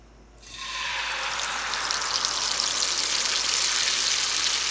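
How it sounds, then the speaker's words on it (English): Tortillas frying in hot oil in a pan, a loud continuous sizzle that bursts in abruptly after a quiet start and holds steady, crackling and hissing throughout. "This is the sound that you're looking for when you fry something."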